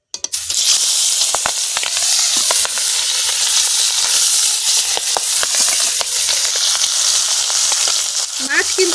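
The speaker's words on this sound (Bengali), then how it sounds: "এই মাছ কিন্তু তেলে দিলে ফটফট করে ফাটে" Live singi fish frying in very hot mustard oil, a loud, dense, continuous sizzle with sharp crackles and pops scattered throughout, close up with no talking.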